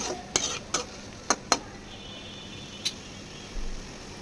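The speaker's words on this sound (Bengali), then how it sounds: "কয়েকটা চিংড়ি মাছ আমি ধুয়ে রেখেছিলাম সেটা দিয়ে দিয়েছি দিয়ে আবার একটু নেড়ে চেড়ে নিলাম" Prawns and spices being stirred in a pan while making a kakrol bhorta, with several sharp scraping clacks of a utensil against the pan, clustered early and then spaced out, over a faint background.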